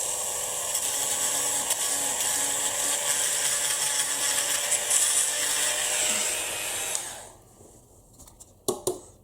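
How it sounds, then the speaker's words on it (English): A high-speed Dremel rotary tool whines steadily as it grinds a plastic tab off a 1/18 scale Hobby Design DMC Huracan model car, then spins down and stops, followed by a few small clicks. "I'm going to use the Dremel because it's safer than the knife"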